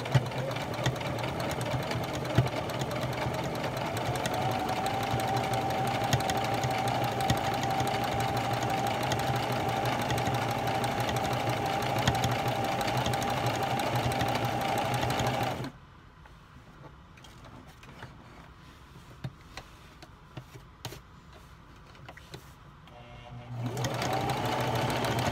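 A sewing machine runs steadily while stitching fabric edges for a baby milestone blanket, a fast continuous mechanical whir that stops abruptly for several seconds of near quiet before starting again.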